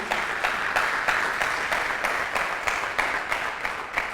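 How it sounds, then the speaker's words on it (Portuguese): Applause from a church congregation, a steady moderate clapping with a regular pulsing rhythm that continues throughout, heard alone without speech. "Dá um aplauso para você animar aí."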